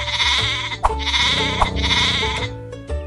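Sheep bleat close by in three long, wavering calls one after another, with a shorter bleat at the end.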